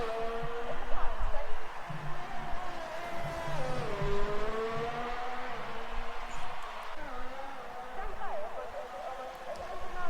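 A race car on hard tyres runs down the back straight of the Chinese GP circuit in a racing game, its engine whine holding steady and shifting pitch through gear changes, while a voice talks over it.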